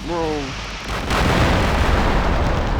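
A weapon explodes in the Minecraft Rival Rebels mod: a brief voiced tone leads into a loud, sustained rumbling blast that fills the rest of the clip.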